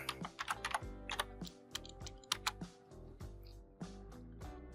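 Keys on a computer keyboard tapped in short irregular bursts, crisp clicks close up with brief pauses between runs, no voices.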